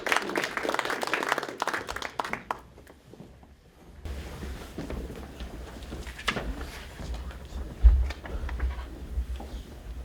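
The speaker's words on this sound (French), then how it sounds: "Je vous invite à l'applaudir." Applause at an entrepreneurs' breakfast talk, scattered claps from a seated audience, uneven and moderately distant, with a brief pause before a second round of claps and room noise.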